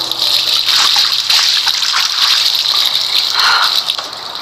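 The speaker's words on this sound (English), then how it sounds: "Go to the bathroom and splash water." Running bathroom tap in Life Is Strange, a loud, close, continuous gush and splash of water with slight fluctuations, heard alone without talk.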